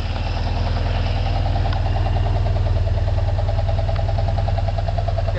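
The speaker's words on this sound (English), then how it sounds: "The bus seems to be idling just fine." A bus engine fitted with a hydrogen generator running on distilled water and sodium hydroxide idles steadily up close, a loud, even mechanical rumble with a rapid regular knock and no talk.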